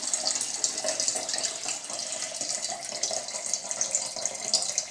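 Water runs steadily through a LifeStraw family water filter, a continuous splashing, trickling flow, close and moderately loud with no talk.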